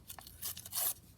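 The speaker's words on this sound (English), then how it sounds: "Now I've got some sheet music, obviously from another piece that we did. So I'm just going to tear that" Sheet music paper being torn by hand for a junk journal, a few short ripping bursts building to a longer, louder tear near the end, close and alone.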